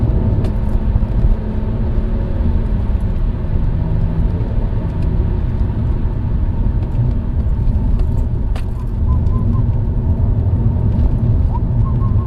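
Engine and road rumble heard from inside a car on a test drive after its bonnet flew open: a loud, steady low drone with no pauses, and a few light key-jangling clicks over it.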